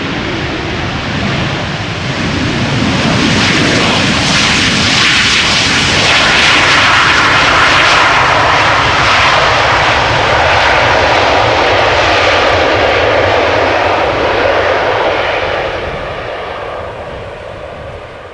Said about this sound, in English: Here we have Sunwing Airlines flying on behalf of TUI.